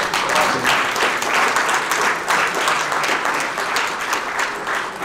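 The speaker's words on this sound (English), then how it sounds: "One last applause for our friends from Serbia." Steady, loud applause from a crowd at a Greek off-road rally event, continuous dense clapping for the Serbian team, filling the whole stretch without a break.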